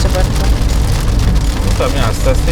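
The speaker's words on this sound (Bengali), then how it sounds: "জোরে বৃষ্টি হচ্ছে পার্থ।" Heavy rain drums on the road and on a Thar Roxx during a drive, a dense, loud, continuous hiss of water with road rumble underneath.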